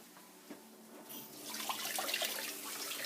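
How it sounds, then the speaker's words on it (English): A kitchen tap starts running for hand washing. A faint background hum gives way to a steady, close splashing rush of water that fills the second half, with no voices. "And wash your hands."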